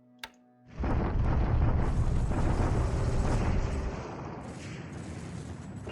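Artillery bombardment in a World War II strategy game: a sharp initial crack, then a loud, sustained roar of shelling and explosions that rumbles for several seconds before easing into a lower continuing rumble.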